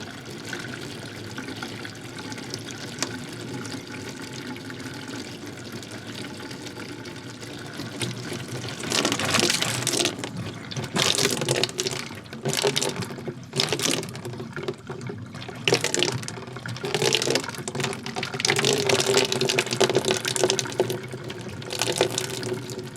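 Water runs from a tap in a camper during winterizing, a steady low flow that grows louder and more splashy in bursts partway through, nearby and with no talk.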